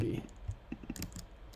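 Typing on a computer keyboard, a quick run of several soft, close key clicks in an uneven rhythm, fairly faint in a quiet room.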